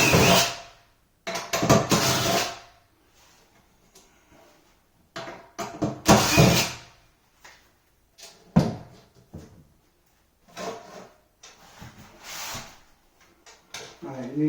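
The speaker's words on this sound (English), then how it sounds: "take these screws out, these 4 screws here." Screws being backed out of the sink hardware on a cheap builder-grade bath vanity during a renovation: close, intermittent clattering bursts separated by quiet gaps.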